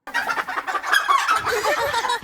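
A rooster clucks and squawks in a busy, agitated run of calls lasting about two seconds. It sounds close and loud, with no speech over it.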